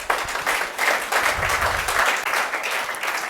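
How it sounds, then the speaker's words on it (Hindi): Applause from an audience at a coaching institute celebration as a young student is called onto the stage; steady dense clapping fills the whole stretch, fairly loud and continuous, with a faint voice underneath. "बहुत जोरदार तालियां बच्ची के लिए"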